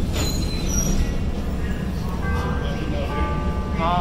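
Chicago CTA Orange Line train bound for Midway running along the track, a steady loud rumble with squealing wheel tones rising toward the end, heard from on board.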